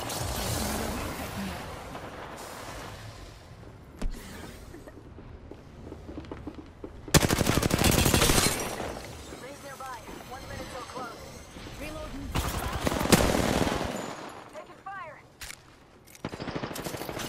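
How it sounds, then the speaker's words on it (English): Several teams exchange gunfire in Apex Legends: loud bursts of automatic fire and scattered shots that swell in two heavy volleys, with people talking throughout between the shooting. "Oh, there's more teams shooting at him."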